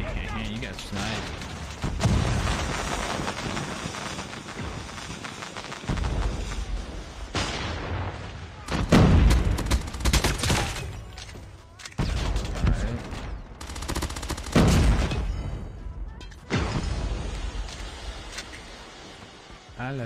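Gunfire in the Call of Duty Mobile video game, dense bursts of automatic shots and sniper cracks in clusters with loud peaks, under speech from a player.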